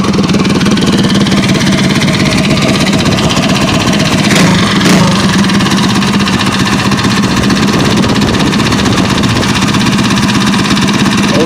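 Small mini bike engines idle together at an outdoor mini bike show, a loud, steady, close-up putter and drone that holds throughout with no pause.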